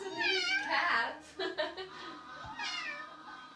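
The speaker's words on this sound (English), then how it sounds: "Yeah, you can hear her. That's just over here. Us and these cats." Cats meowing nearby, drawn-out plaintive calls, with one meow early and another near the end, while a person talks softly in between.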